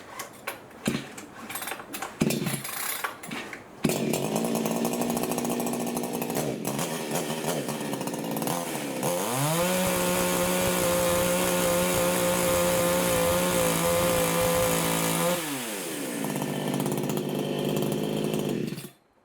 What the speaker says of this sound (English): see if she'll fire up without choke.